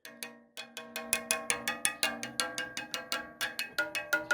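A rapid series of bright metallic pings from bicycle wheel spokes being tapped, each ringing briefly and then fading, with only small differences in pitch from one to the next.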